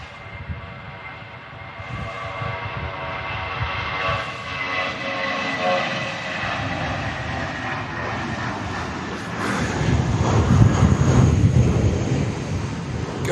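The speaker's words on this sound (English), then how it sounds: "British Airways heading back to London Heathrow" A British Airways airliner takes off from Manchester Airport during a storm, its engines a steady broad roar that swells louder toward the end, mixed with gusty wind noise.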